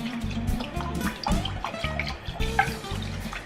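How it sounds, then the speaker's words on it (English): Water swished around in an empty soup can, giving sloshing, splashing gurgles in quick uneven pulses close up, with no voices. "I'm actually gonna put the water in my soup can and swish it around."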